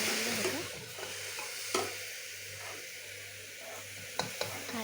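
Grated carrots for gajar halwa are stirred in a pan, a soft scraping sizzle with a steady low hum, broken by a few sharp clinks of the spoon against the pan.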